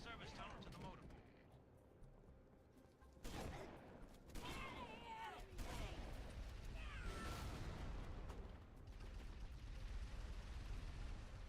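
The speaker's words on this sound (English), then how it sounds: "That's a DMR, I can tell." Gunfire from a DMR rifle in a Halo game, a dense run of shots and bursts in a busy firefight under other battle noise, with a voice talking over parts of it.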